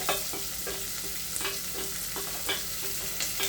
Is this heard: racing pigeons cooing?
no